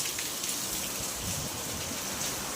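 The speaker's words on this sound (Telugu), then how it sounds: "ఇప్పుడు బాగా పడుతుంది వర్షం" Heavy monsoon rain pours down steadily in a dense, even hiss that holds at a constant level throughout, with no voices over it.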